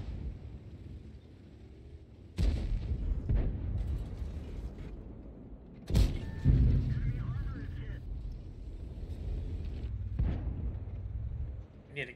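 Heavy artillery impacts in World of Tanks, a few loud booming blasts spaced seconds apart with rumbling tails, while someone talks between and over them.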